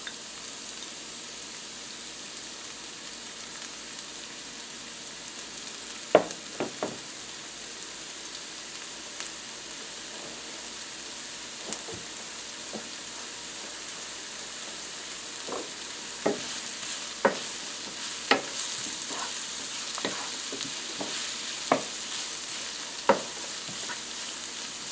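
Onion and vegetables sautéing in oil in a pan for a broccoli and ham quiche, a soft steady sizzle with scattered sharp clicks of stirring and utensil taps, no voices.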